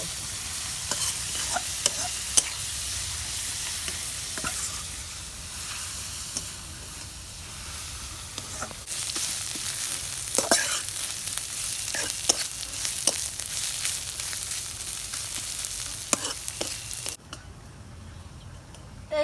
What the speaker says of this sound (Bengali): পেঁয়াজগুলো আমি লাল লাল সুন্দর করে ভাইজা নেব